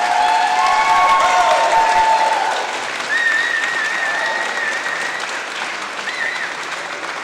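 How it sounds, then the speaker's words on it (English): Steady, full applause at a school moving-on ceremony fills the hall, with many hands clapping loudly at first and easing slightly while a few high whistles or squeals rise above the crowd. "Give them a round of applause."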